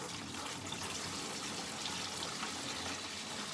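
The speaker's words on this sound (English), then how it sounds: "I'm going to add this to here anyway, which is the honey water." Honey water poured into a fermenter for a mango, pineapple and papaya melomel, a steady unbroken liquid rush and trickle running close and alone throughout.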